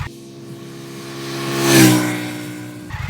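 Indian FTR 1200 S V-twin motorcycle with Akrapovic exhaust passing by, its engine note rising to a loud peak as it draws near, then fading with a whoosh.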